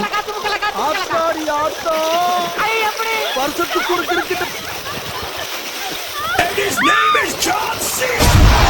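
Water smacked and splashed repeatedly by hand during a water-hitting game at a Pongal outing, bursts of splashing and sloshing layered under lively chatter and shouts from several people.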